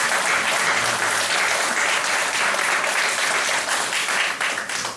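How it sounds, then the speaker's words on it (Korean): A church congregation applauding during a Sunday service, a full, loud burst of many people clapping together, sustained evenly for about five seconds before starting to fade. "우리 박수로 한번 축복해 주시기 바랍니다"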